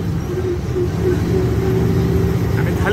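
A vehicle climbs the Khandala ghat road in light traffic, its engine a steady, loud, low drone filling the cabin, with a faint brief voice near the end.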